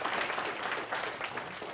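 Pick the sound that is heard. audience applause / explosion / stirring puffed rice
audience applause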